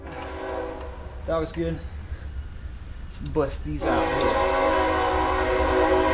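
A train rumbles steadily nearby, with a long horn blast rising toward the end, while someone talks over the noise during an RX-7 FD rebuild.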